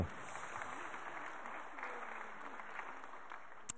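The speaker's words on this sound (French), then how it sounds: "On peut les applaudir encore une fois, ils sont médaillés d'excellence." An audience applauds regional medal winners at a reception for the Auvergne-Rhône-Alpes trades team, with sustained, even clapping heard at a modest distance and a faint voice or murmur underneath.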